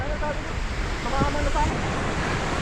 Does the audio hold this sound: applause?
no